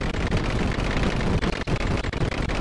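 Sustained rapid gunfire from a gun in the VR game Bonelab, a dense, loud, continuous automatic burst with brief gaps, no voices over it.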